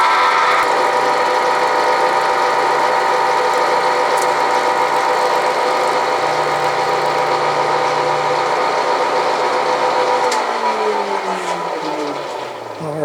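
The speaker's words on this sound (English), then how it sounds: "let's turn the machine on at 135 RPM" A Bridgeport milling machine runs steadily at 135 RPM, giving a loud continuous motor hum with a whining mechanical drone that shifts in pitch toward the end.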